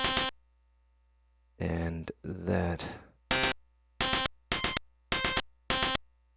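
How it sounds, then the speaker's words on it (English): Synthesized white noise for techno hi-hats fires in sharp, evenly spaced bursts, five short bright hits in a row, after a brief stretch of someone talking. "Just going to get some white noise in here, and let's see what that sounds like."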